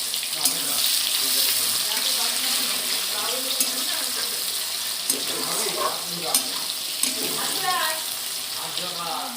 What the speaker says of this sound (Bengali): এবার তেলটার মধ্যে আমি গোটা জিরে আর একটা শুকনো লঙ্কা দেবো ফোড়নে। আমি আস্তে আস্তে পেঁয়াজটা দিয়ে দেবো।